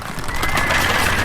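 A brief, close horse whinny from cavalry in the strategy game 0 A.D. on a Pyrenean Sierra map, loud over busy battlefield noise.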